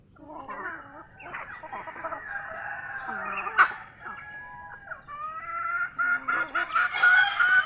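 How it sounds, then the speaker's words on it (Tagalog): Guinea fowl kept as new backyard poultry call with loud, repeated harsh cackling and chattering, busy and close, rising toward the end alongside other bird sounds. "Nakakatuwa lang alagaan ng bingala pala kasi maingay eh."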